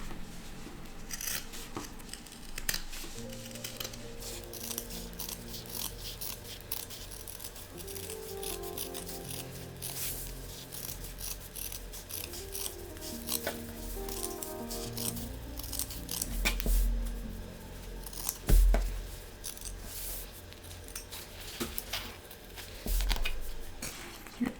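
Scissors snip away excess fabric while sewing a small waterproof pouch, a long run of quiet, close crisp cuts and rubbing fabric with a few heavier clunks, no talk.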